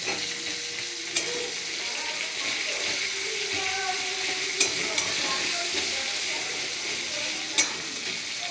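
Steady sizzling of chopped onions frying in a pan for a stingray fish curry, with occasional sharp clinks of a utensil stirring against the pan.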